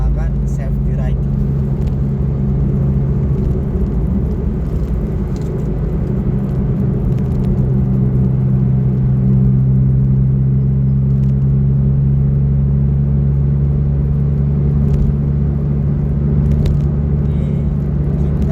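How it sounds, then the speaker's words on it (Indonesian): Honda Brio driving on a road near Bekasi toward Cikarang, with a steady low engine and tyre rumble filling the cabin throughout. "Ini kita mengendarai kendaraan"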